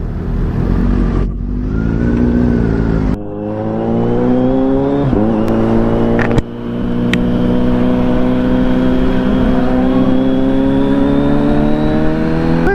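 A 2025 Kawasaki Z900SE motorcycle engine revs hard and holds at high pitch, rising and falling through several throttle blips, loud and close.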